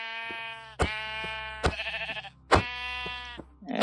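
A Minecraft sheep is punched and gives several clear, buzzy bleats in quick succession, each separated by a sharp hit, with nothing else heard.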